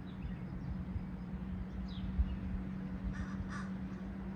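A few distant crow caws sound over a steady low hum, spaced out and fairly faint.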